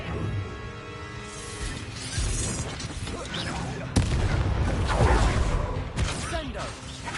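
Expelliarmus spell cast in the video game Hogwarts Legacy, a sharp magical blast landing around the four-second mark amid ongoing bangs, whooshes and dense battle effects.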